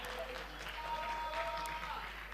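Audience applause at a literary and arts book festival comes through as a faint, steady patter of many hands clapping at a distance, continuous over a low background hum.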